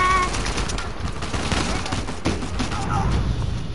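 A shotgun enemy fires in Uncharted 4 amid a chaotic gunfight, with dense overlapping shots and booming blasts, loud and continuous, and a voice speaking over the fighting.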